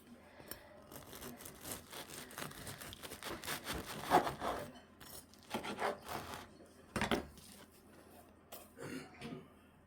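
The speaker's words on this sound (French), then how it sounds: "Bon allez, je vais couper mon pain." Homemade semolina bread being cut, a knife rasping and sawing through the crust in uneven, close strokes with scattered bumps and a cough, no talking.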